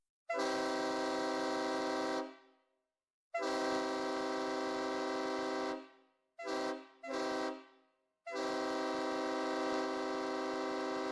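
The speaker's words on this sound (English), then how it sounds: "Now compare that to what it sounds like without the Doppler effect." A passing train horn in a Godot engine demo, played without Doppler shift: a loud, steady multi-tone blast, then a second long blast, two short toots, and a final sustained one, with no pitch change.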